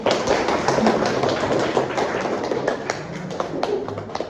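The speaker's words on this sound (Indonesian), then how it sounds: "Tepuk tangan dulu untuk Henry." A classroom of students applauds a classmate who has just presented for their group, a fast patter of many hands clapping at steady loudness with no voices over it.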